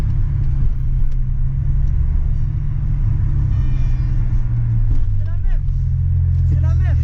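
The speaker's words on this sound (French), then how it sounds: "Le bruit du passage de rapport est magnifique." Audi RS6 with a 730 hp V10 engine, a loud low rumble from inside the car that rises through acceleration, with quick pitch sweeps as gears shift, under people talking.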